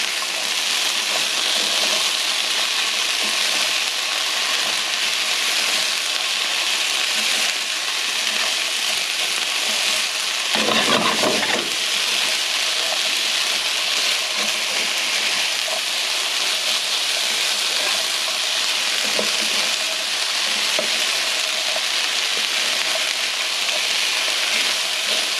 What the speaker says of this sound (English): Get the onions sweated pretty well. We'll add the rice, heat the rice up.